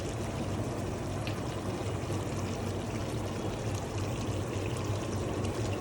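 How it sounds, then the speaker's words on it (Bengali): Cooking cream poured over chicken rezala in a pan, a continuous soft pouring and gentle bubbling that stays even and fairly quiet throughout. "উপর দিয়ে ঢেলে দিচ্ছি কুকিং ক্রিম"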